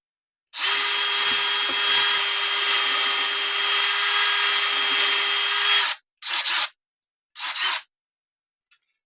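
Power drill with a 7/32 bit boring into the wood body of a WestCreek High Voltage guitar: one loud, steady whine of about five seconds, then two short bursts and a tiny final blip.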